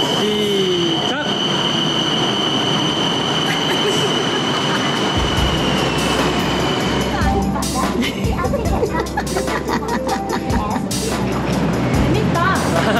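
A Bangkok subway train pulls into the station with a rumbling roll, high wheel squeal and rhythmic clatter, loud and close, while people's voices murmur around it.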